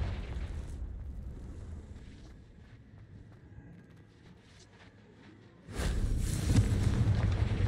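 A Confringo explosion spell in Hogwarts Legacy: low, faint rumbling gives way to a sudden loud blast near the end, its heavy roar sustained to the close.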